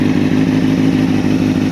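A 2004 Honda CBR600RR sport bike on a cold start idles loud and close, with a continuous even rumble and no voices.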